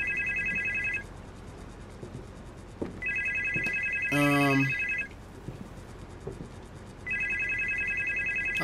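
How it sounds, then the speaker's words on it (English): A telephone rings in the indie horror video game Supernormal, with repeated electronic ring bursts about two seconds long separated by pauses, and a brief warbling tone in the middle, while a player speaks faintly underneath. "I'm at the phone. Can we answer it?"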